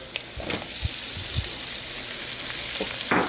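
Chard stalks with dill and parsley frying in a pan outdoors in the rain, a soft, steady sizzle with a few light clinks and stirring knocks, fairly quiet and close.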